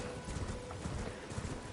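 Rapid hoofbeats of a horse galloping in Elden Ring, an even, fast clip-clop rhythm close and moderately loud, continuous throughout.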